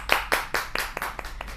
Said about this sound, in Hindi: जोरदार तालियों के साथ स्वागत करते हैं हम स्टूडियो में